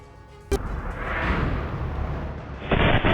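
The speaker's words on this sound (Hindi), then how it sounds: "नौगाम पुलिस स्टेशन में हुए धमाके के बाद पूरा इलाका दहल गया।" Explosion at Nowgam police station caught on CCTV, a sudden sharp blast followed by a long, loud roaring rumble that swells and then surges again near the end.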